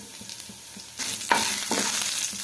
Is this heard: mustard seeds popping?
yes